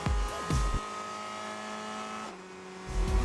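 A race car on the Le Mans circuit holds a loud, steady, high engine tone under acceleration, with sharp transient bursts at the start and a brief dip before the engine surges again.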